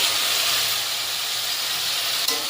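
Cut pumpkin added to a hot spice mix in oil gives a loud, dense, continuous sizzling hiss close by, broken by one brief knock near the end.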